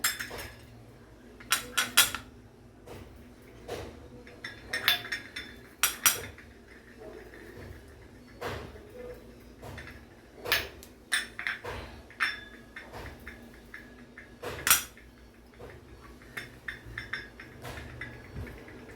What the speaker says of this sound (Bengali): ইডলি স্ট্যান্ডে একটু করে তেল দিয়ে দেব। তেল দিয়ে সুজির ব্যাটারটা সব জায়গায় দিয়ে দেব।